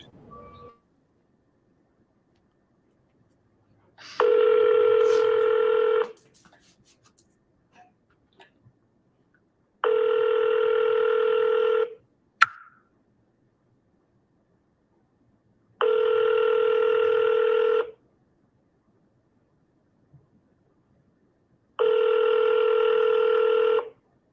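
A telephone call rings out on the line, with four long, even ringback tones spaced at regular intervals and near-silence between them, heard clearly over the handset with no talk.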